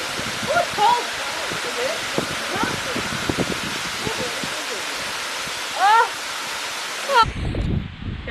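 A Sri Lankan waterfall gives a steady, broad rushing roar close by, with people talking and exclaiming over it until a louder splash or movement near the end.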